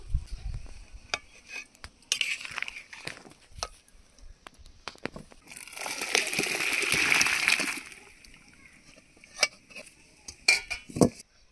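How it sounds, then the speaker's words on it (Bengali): Water pours and splashes as half-boiled raw jackfruit is drained in a kitchen, a steady rushing burst midway framed by clanks of pots and utensils. "এবার নামিয়ে জল ঝরিয়ে নেব।"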